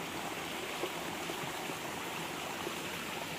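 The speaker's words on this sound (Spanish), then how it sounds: "Viene con fuerza el agua." River water rushes strongly in a steady, dense roar, loud and close with no break across the whole stretch.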